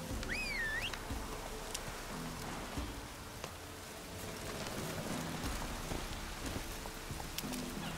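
Steady, hissing heavy rain pours down throughout in The Witcher 3. Faint thuds and a short whistle-like tone sound briefly under it.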